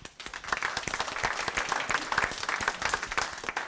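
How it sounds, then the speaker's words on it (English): An audience in a room claps for a few seconds, a dense patter of many hands rising quickly, holding steady and near, with no talk over it. "Everyone give him a round of applause."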